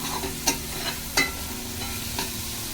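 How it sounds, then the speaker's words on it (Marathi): Onion sautéing in oil in a pan for soya keema, a steady low sizzle with a few sharp stirring scrapes and clicks at intervals, close and moderately loud, no talking. "असं जरा तेलावरती परतून घ्यायचं"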